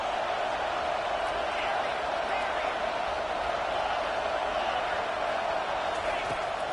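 A football stadium crowd roars steadily behind the defense on a third down, a broad sustained wash of cheering with a commentator talking over it throughout.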